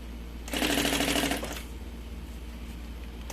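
A sewing machine stitching along the edge of a large changing bag, a fast loud mechanical whirring burst for about a second, then a quieter ticking hum as it slows and idles nearby.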